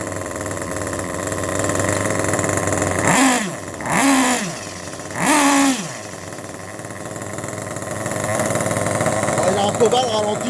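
A small nitro engine in a Kyosho Inferno Neo 3 RC car idles steadily with a buzzing drone during break-in, briefly revving up three times in quick bursts before settling back to idle.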